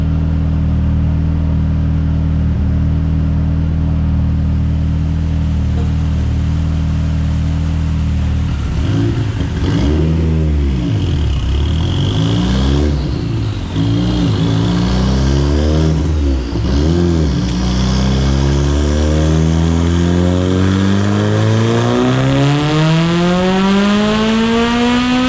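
A tuned Mitsubishi Evo 9 with a 2.4L engine, forged rods and pistons, GSC S2 cams and a Haltech Elite flex-fuel setup, making its first run on E85. It idles, then revs hard in repeated surges before sweeping up loud and close through a long climbing pull.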